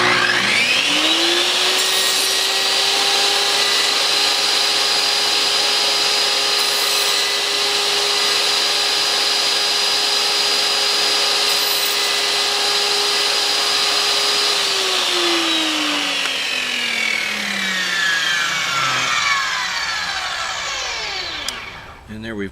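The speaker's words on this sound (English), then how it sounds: "we're going to run it through 3 or 4 times, and we're going to cut out the piece that's in the center" A table saw runs up to speed and cuts notches in wood, a steady loud whine with a tonal pitch that holds through repeated passes before spinning down and fading at the end.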